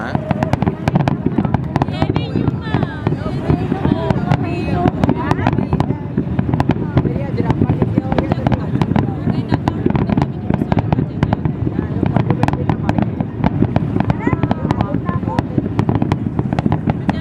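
Fireworks and firecrackers bursting continuously in dense, crackling rapid-fire volleys throughout, loud and sustained, with occasional voices faintly beneath the noise.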